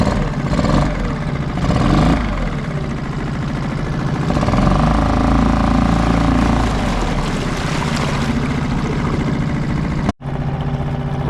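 A Suzuki 2.5hp outboard motor running close by, its buzzy engine drone climbing from idle through higher revs and holding steady with a constant rough rattle, then cutting briefly near the end, with no voices.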